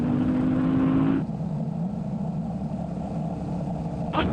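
A Honda Transalp motorcycle accelerates in fourth gear at about 90 km/h and just over 4,000 rpm on gravel, a loud close engine drone with a rising tone that drops off suddenly into steady wind and road roar.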